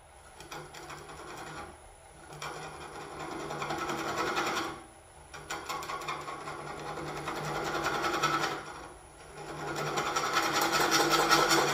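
Abrasive sanding against a wooden scoop spinning on a lathe, a steady raspy hiss that swells and eases in several long passes with short gaps, close and continuous.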